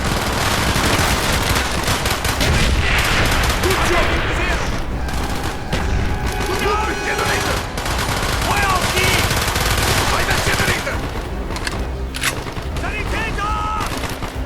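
In the Call of Duty: Black Ops video game, dense, continuous machine-gun fire and heavy explosions from incoming mortar rounds fill the battlefield, loud and unrelenting throughout.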